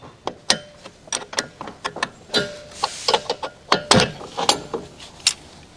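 A 17mm wrench turns a ball joint separator screw on a Dodge Ram front suspension, giving a string of close, sharp metallic clicks and ticks at an uneven rhythm.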